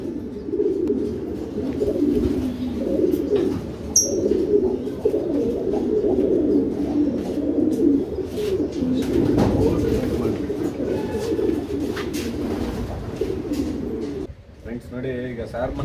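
Homing pigeons in a loft coo steadily and close, a dense continuous murmur of overlapping calls that carries on throughout, with a brief sharper bird chirp partway through and a few softer rustles near the end.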